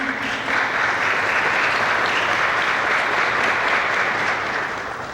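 Steady, dense applause from an audience at the Buenos Aires book fair, sustained and fairly loud for several seconds before easing off slightly at the end.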